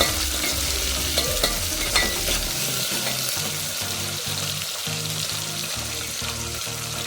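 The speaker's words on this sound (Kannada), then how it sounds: "ಇದರಲ್ಲಿ ಬೆಳ್ಳುಳ್ಳಿ, ಈರುಳ್ಳಿ, ಹಸಿಮೆಣಸಿನ್ಕಾಯಿ ಹಾಕಿದ್ದೀನಿ. ಇವಾಗ ಇದು ಫ್ರೈ ಮಾಡಬೇಕು ಚೆನ್ನಾಗಿ." Garlic, onion and green chilli fry in a tempering pan, a close, steady sizzle with scraping stirs of a spoon against the metal at a regular rhythm.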